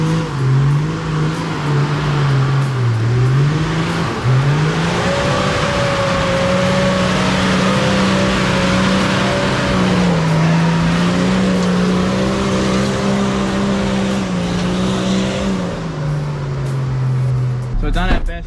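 A chopped Toyota Land Cruiser 80 Series with a freshly rebuilt motor drives along a dirt 4WD track, its engine droning loud and close with rising and falling revs as people talk over it.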